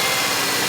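A 4-cylinder car engine running on only two cylinders, heard as a steady, loud mechanical running hum with a slightly uneven low-end pulse, close up and alone for under a second.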